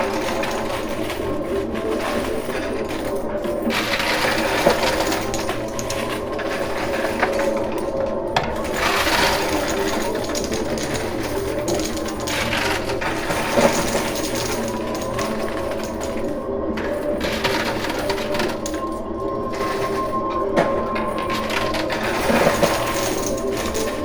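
A casino coin pusher machine with piles of quarters and $5,000 chips runs steadily, its continuous mechanical whir and rattle interspersed with clinks of falling coins, fairly loud and close with no talking.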